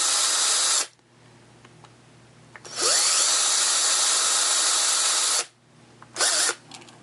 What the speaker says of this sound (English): now I'm going to drill one